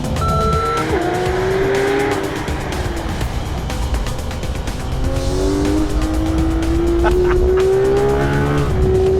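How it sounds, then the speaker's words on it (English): A loud Porsche GT3 RS Weissach engine roars hard at full throttle, pitch climbing through the gears with tire squeal and racing noise all around. "You can barely use full throttle out here. And it is so loud."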